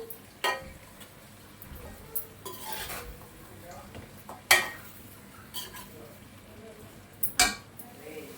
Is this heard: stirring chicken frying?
yes